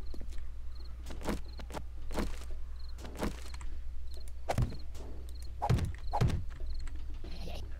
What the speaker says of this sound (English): Banging on my fucking door.